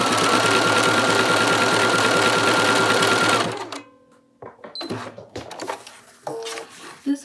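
A sewing machine stitches a bar tack loudly and continuously for about three and a half seconds, then stops. Soft handling clicks and faint shuffling follow, with some talk toward the end.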